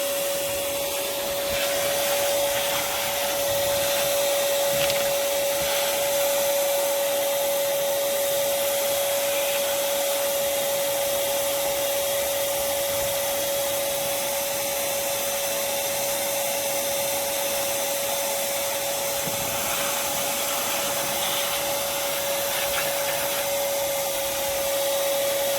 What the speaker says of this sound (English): You always want to have your vacuum so that you make sure you don't get a bunch of crap down in your cylinders through your intake ports.